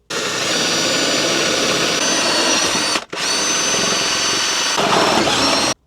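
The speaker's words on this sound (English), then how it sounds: "We are drilling" A power drill bores a hole through a campervan wall, a loud continuous high whine that pauses briefly midway and then resumes before cutting off.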